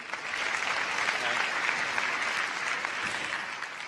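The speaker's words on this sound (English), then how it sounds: "Round of applause for Stanley Reynolds and John Ratcliffe." Audience applause at a Miss World event, a steady, moderately distant wash of clapping from a large hall crowd that holds even throughout.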